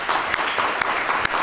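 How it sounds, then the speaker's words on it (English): Conference audience applauding at an economics growth event, steady mid-level clapping throughout with a few sharper individual claps standing out, no talk. "we should applaud his contribution."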